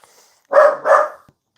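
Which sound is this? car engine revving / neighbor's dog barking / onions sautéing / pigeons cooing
neighbor's dog barking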